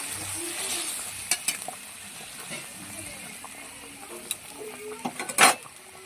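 Whole cumin seeds tempering in hot oil for a Bengali coconut hilsa fish curry give a steady close sizzle and hiss, broken by scattered sharp pops and spatters, with a louder crackling burst near the end.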